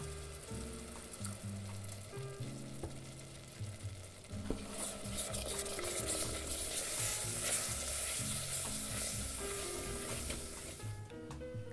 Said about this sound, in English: Add salt and then add milk in small portions and stir in between the additions to ensure the sauce will be smooth and